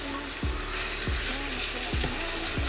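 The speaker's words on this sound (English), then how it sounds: "we want to brown each side. So that's like 5 minutes on medium to high heat." Beef short ribs brown on medium-high heat in a pan, giving a continuous close sizzle and frying crackle, with several soft thuds as pieces are moved.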